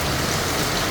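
Heavy rain pours down in a dense, constant roar of drops hitting surfaces, loud and unbroken across a brief moment.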